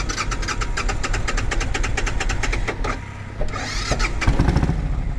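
A carbureted 1998 motorcycle with choke pulled out cranks with rapid rhythmic starter ticking for several seconds, pauses, cranks again, then catches and fires into a low, close idle.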